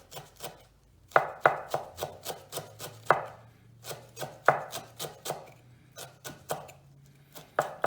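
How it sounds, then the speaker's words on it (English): A knife chops a small bunch of fresh coriander finely on a board, producing a steady run of crisp, close taps in an uneven rhythm of roughly three to four strikes per second. "I have here a little bunch of coriander. And again, we need to chop this super fine."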